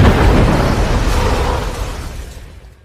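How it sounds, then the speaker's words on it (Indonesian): A house blows up in a Korean film scene, a loud broadband blast with rumbling debris that slowly fades out over a few seconds. "Tetapi tiba-tiba, kertas yang dibakarnya tadi mengakibatkan rumah Sersan Choi meledak, dan Sersan Choi pun ikut terpanggang."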